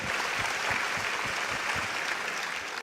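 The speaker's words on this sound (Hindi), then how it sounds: "तो जोरदार तालियां डॉक्टर विवेक बिंद्रा और बड़ा बिजनेस के लिए।" Steady applause from a TV studio audience during a live Aaj Tak business interview programme, dense and continuous for a few seconds before cutting off abruptly.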